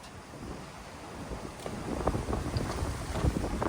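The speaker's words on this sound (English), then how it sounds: "The wind really just picked up." Gusty wind blowing outdoors during an oil change on a 1997 Chevy S10 with a 4.3 Vortec, a rough, buffeting rush against the microphone that strengthens toward the end, with a few faint knocks.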